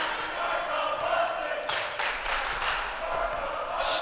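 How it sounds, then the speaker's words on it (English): A crowd at a girls' varsity playoff basketball game chants and roars in a dense, sustained wash of voices, with no single speaker standing out. "Start the buses is the chant from the crowd."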